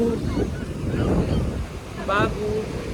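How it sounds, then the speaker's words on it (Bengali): Ocean surf rolls steadily onto the beach at Puri, a continuous rushing wash mixed with wind buffeting the microphone, and a voice briefly calls out near the end. "আমরা এখন সমুদ্রের বিচে আছি"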